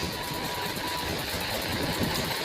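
A motorcycle engine idles in the mobile game Indian Bike Driving 3D. It holds a steady, even drone for the whole stretch, with no talking.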